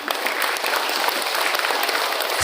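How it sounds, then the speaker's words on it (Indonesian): An audience at a school career-day seminar claps enthusiastically, dense and steady applause filling the room without pause. "Tepuk tangan buat Hanif."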